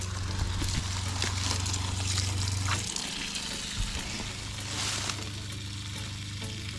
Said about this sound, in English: We're going to open those both up and drain out all the water.